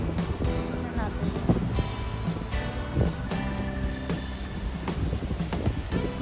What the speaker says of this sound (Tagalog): Very windy today because this morning it raining.